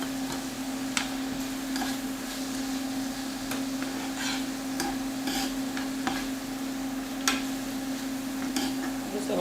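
Red onions sauté in a pan with a steady soft sizzle, broken by occasional clicks and scrapes of stirring, close and without talk.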